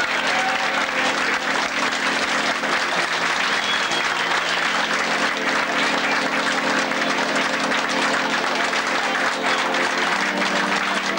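Steady, dense applause from a large crowd aboard a river cruise ship fills the whole stretch, loud and continuous without pause.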